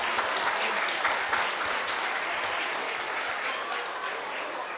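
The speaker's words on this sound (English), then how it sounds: "A big round of applause for the pre-KG class" An audience applauds a pre-KG class at a community center event, a dense, steady wash of many hands clapping from a sizable crowd, sustained throughout and slowly fading slightly.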